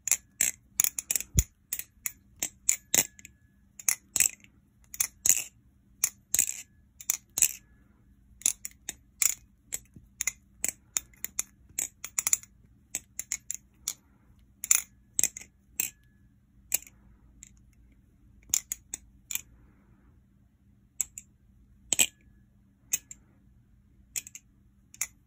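A Kraken balisong trainer is flipped up close, its handles and latch giving rapid sharp metallic clicks and clacks in irregular bursts with short pauses, alone in a quiet room.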